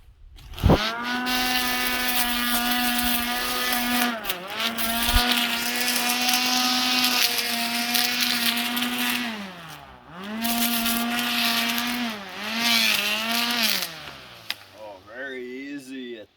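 A grass trimmer fitted with a plastic blade revs and whines loudly as it cuts through lettuce, its motor pitch sagging and recovering in long sustained runs.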